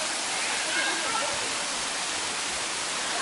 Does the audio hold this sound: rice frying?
no